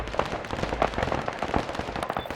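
Artillery fire in the wartime strategy game Warno, a continuous rapid patter of overlapping distant blasts and crackling impacts with low rumble underneath throughout.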